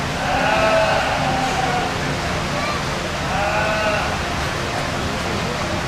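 Yearling ewes bleat at a youth sheep breeding show, two or three wavering calls over a steady crowd murmur and arena background noise.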